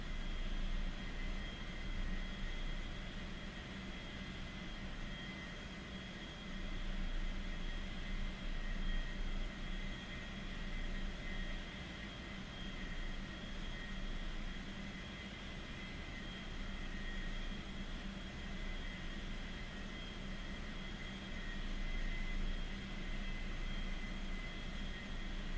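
A small scooter aircraft engine running with the throttle eased up as it passes overhead, a steady, moderately loud drone that holds constant for the whole stretch, with no voices.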